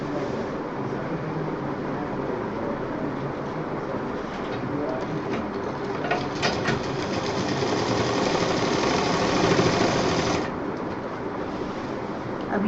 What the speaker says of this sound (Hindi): इसको अंदर मोड़ते हुए हम सिल रहे हैं।